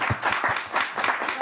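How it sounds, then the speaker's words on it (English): Audience clapping for the speakers at the close of an advocacy panel, a short, close burst of uneven claps with a little voice mixed in. "ask you to give them a round of applause."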